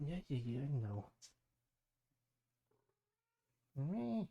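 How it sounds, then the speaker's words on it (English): A house cat meows loudly and close in two drawn-out, wavering calls separated by a quiet pause, with someone briefly speaking in between. "Yep, that's my cat."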